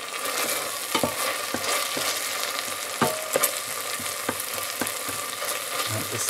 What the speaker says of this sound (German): Den lassen wir jetzt komplett einkochen. Wenn hier also wieder Bratgeräusche entstehen am Boden,